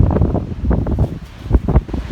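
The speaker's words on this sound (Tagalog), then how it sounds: "Mahangin na mahangin." Strong gusts of wind buffet the microphone in rough, uneven bursts after rain has stopped, a loud low rumble swelling and fading.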